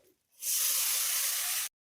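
A loud, steady sizzle of banana stem with green chillies and grated ginger dropped into hot oil, starting abruptly and holding for over a second before cutting off.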